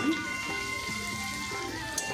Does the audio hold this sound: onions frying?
yes